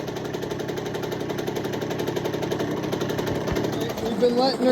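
A Cobra CX50 motorcycle engine idles steadily while warming up, a constant rumbling drone close by, a faint rising whine near the end, while someone talks over it.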